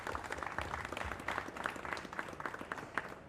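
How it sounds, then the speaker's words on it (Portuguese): Audience applause fills a police commissioner's talk event in Angola, a sustained burst of clapping from a seated crowd that holds steady for several seconds. "eu peço aplausos por essa iniciativa,"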